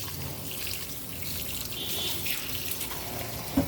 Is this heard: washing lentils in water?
yes